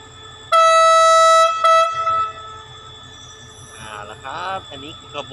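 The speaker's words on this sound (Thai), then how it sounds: "อันนี้คือกระบวนรถเร็วที่142นะครับผม" Rapid train 142 sounds a loud, sustained horn blast of about a second and a half as it departs Sisaket station, followed by a short second toot, then a low rumble of the train with a person talking over it.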